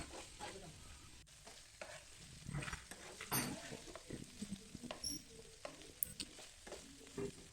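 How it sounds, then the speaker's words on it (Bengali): Paneer pieces frying in oil in a nonstick pan, a quiet, crackling sizzle with scattered pops and stirring scrapes. "সব পনির আমি দিয়ে দিয়েছি, এবার আমি ভেজে নেবো।"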